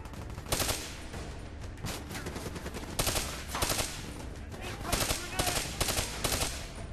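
Rapid automatic gunfire from a Call of Duty Black Ops 3 multiplayer match, dense overlapping bursts and shots with explosion-like thumps, loud and close, continuing throughout with no speech.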